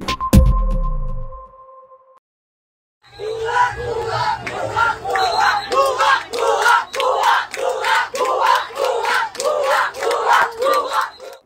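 A large crowd of students at Milestone School and College in Uttara, Dhaka, chanting "bhuya bhuya" in a loud rhythmic unison, repeated many times with a steady beat after a short opening sound and a pause.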